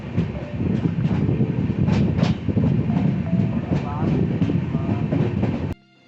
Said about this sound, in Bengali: সকাল 7:40 আমাদের ট্রেন ঢুকলো বাগডোগরা স্টেশন।